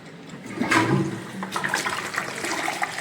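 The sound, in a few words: toilet flushing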